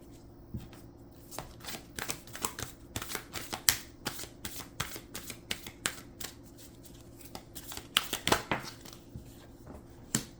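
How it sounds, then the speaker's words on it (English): Oracle deck cards are handled and shuffled close up. Quick bursts of riffling and flicking cards repeat over about ten seconds, some louder slaps among softer shuffles, with no voice. "They want me to break out specific oracle decks to place in between these cards in a specific manner."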